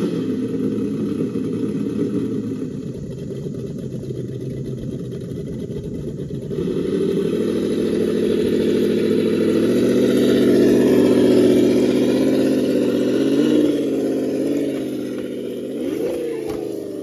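Simulated engine idle from an ESS Dual+ sound module fitted to an RC truck, a steady loud drone that swells and rises partway through, then dips with a short rev near the end, no talk.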